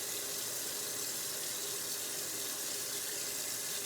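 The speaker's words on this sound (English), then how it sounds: "first things first, I wash my face." Water runs steadily from a tap into a sink as someone washes their face, a continuous close hiss and splash with no talking.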